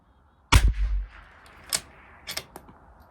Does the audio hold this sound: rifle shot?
yes